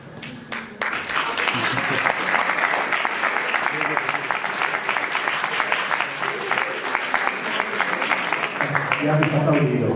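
An audience breaks into applause after a talk on propaganda and posters of the interwar period, a brief pause and scattered claps giving way to sustained, dense clapping from a room full of listeners, with a voice coming in near the end.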